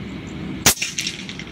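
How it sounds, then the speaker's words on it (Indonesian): A single sharp, snappy air rifle shot firing a slug cracks out close by, followed by a brief metallic ring and faint clatter as it fades. "Ini slug ya, itu tembakan pertama di situ."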